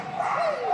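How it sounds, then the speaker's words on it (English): A dog barks and yips during an agility run at Crufts 2019, short excited barks close and fairly loud over a busy arena background. "Noisy dog, this one, Simon Peachy and Peach."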